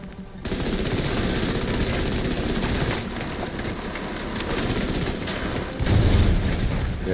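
Continuous rapid automatic gunfire in The Division 2 as players shoot at a heavy enemy's chain armor, loud and dense rattling bursts running nearly nonstop, with a deeper thumping impact near the end.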